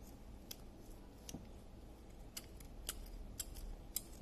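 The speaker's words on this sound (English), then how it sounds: "take the other side of this sock and again cut this side." Scissors snip through a sock in a quiet room, a series of faint, crisp clicking cuts at irregular intervals, close by.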